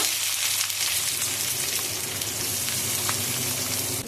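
Onions fry in hot oil for an Odia-style mutton curry, giving a dense, even sizzle that stays constant and fairly quiet up close for the whole stretch.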